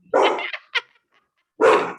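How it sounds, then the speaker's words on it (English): A pet puppy barks indoors during an interview: two sharp, loud barks with a small yip between them, close by and without talk over them. "Ruby, come here, puppy."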